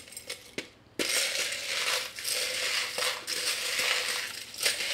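Small divination charms are handled, giving light metallic clinks and rattles, with a few sharp taps and a continuous rustling shuffle, close and fairly quiet.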